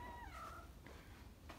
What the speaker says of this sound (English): the cats are hungry, I think.